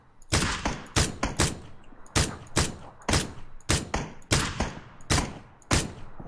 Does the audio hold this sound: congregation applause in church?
no